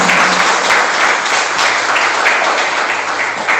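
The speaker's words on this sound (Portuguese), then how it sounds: "Pode aplaudir mais forte." Church congregation applauding loudly and steadily, a dense wash of many hands clapping together that fills the whole moment without a break.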